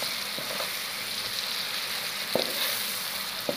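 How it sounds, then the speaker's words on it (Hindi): Tomatoes and green chillies sautéing in a pan for egg and potato curry: a dense, even hiss of frying fills the scene, with a few soft taps of a spoon, close and steady, no voices. "इसे 1 से 2 मिनट के लिए भून लेंगे ताकि टमाटर हमारे अच्छे से गल जाए।"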